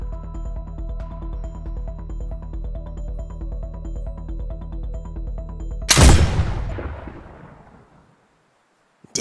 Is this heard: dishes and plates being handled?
no